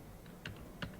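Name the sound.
typing a web address on a computer keyboard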